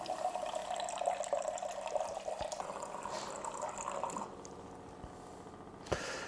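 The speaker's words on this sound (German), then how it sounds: "bestätigen das Ganze und das Wasser läuft richtig schön raus" Water pouring from an Aqua Deluxe water filter dispenser into a vessel, a steady splashing fill that rises in pitch, then stops, followed by a few faint drips and a small click.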